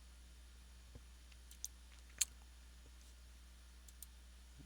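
Several sparse, faint computer mouse clicks, one sharper than the rest, over a quiet room hum during PowerPoint work.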